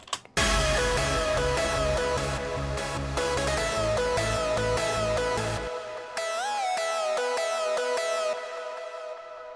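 A bright lead synth melody with gliding, bending notes plays over a pulsing track, which drops away partway so the lead rings on nearly alone.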